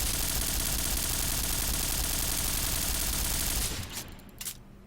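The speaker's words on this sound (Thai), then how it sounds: "อันนี้ผมลองยิงชุดอัดกำแพงดูนะ" An AUG A3 rifle sprayed at a wall in a video game, heard as a dense, loud stream of rapid automatic shots for nearly four seconds before it cuts to a few scattered bursts.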